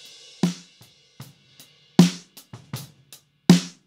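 Sharp, dry snare hits from a top snare mic, snare fitted with a plastic cover, some loud and some soft, land in an uneven pattern with short gaps of near silence between strikes.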